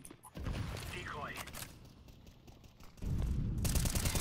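A decoy grenade in the game CS2 fires a rattling burst of fake gunfire mixed with mechanical clicks, sitting loud in a busy game mix with a brief voice nearby.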